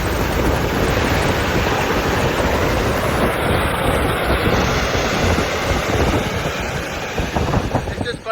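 Jet engine mounted in a truck roars as a steady, loud, broadband rushing blast lasting throughout.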